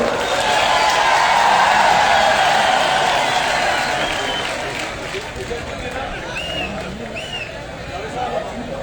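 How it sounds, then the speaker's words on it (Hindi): A large crowd at a public rally in Fatehpur welcomes Asaduddin Owaisi with dense, continuous applause and cheering, loud at first and easing slightly, with a steady babble of voices mixed in. "जोरदार तालियों के साथ स्वागत करें"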